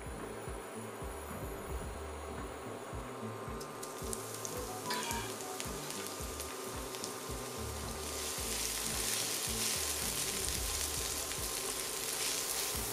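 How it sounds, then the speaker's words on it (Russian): Steady sizzling of onion frying in sunflower oil in a pan, the crackle growing denser and louder partway through, with no talking. "На сковородку наливаем небольшое количество подсолнечного масла и начинаем пассеровать лук до светло-карамельного оттенка"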